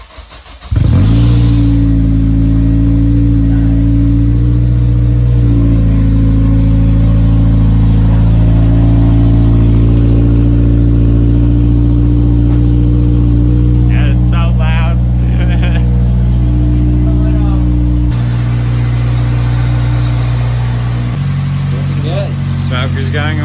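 A straight-piped Honda RSX Type-S fires up for its first full start, then settles into a loud, raspy idle whose pitch shifts with a few revs and drops lower near the end.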